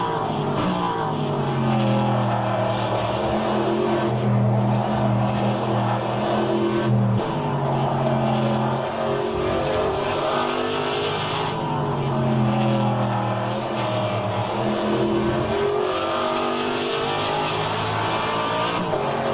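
Race cars in the rFactor 2 sim racing game, SuperStock Historics at Portland: loud, continuous engine whine rising and falling through gear changes, with several cars droning together close by and no talk over it.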